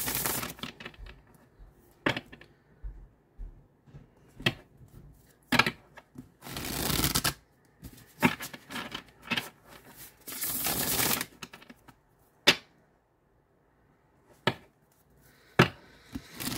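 Bursts of tarot card shuffling, riffles and soft flicks of gilded cards scattered among quiet gaps, a few sharp taps and a couple of longer, louder shuffles, close by.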